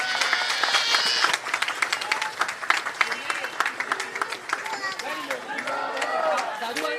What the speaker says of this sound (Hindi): एक बार सब ताली मार के उनका स्वागत करिए।